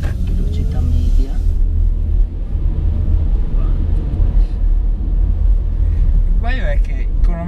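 An Opel Ampera-e electric car drives through the city, giving a steady low road and motor rumble with a brief electric whine, while people talk inside the cabin.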